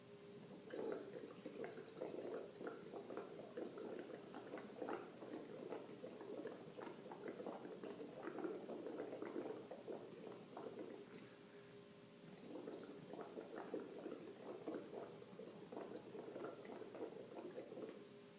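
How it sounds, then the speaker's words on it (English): Breath blown through a straw bubbles carbon dioxide into a pH indicator solution, producing a soft, continuous burbling and gurgling that pauses briefly midway before resuming. "I'm just going to breathe into the straw and bubble carbon dioxide into this pH indicator."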